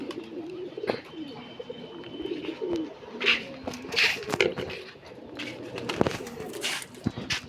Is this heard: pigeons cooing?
yes